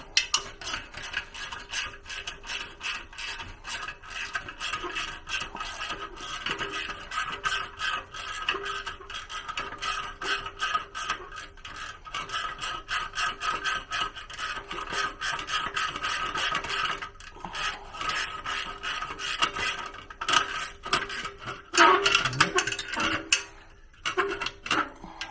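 A socket wrench cranks down an exhaust shield clamp on a Harley-Davidson Sportster, producing a long run of rapid, close ratcheting clicks with brief pauses and rubbing metal scrapes near the end.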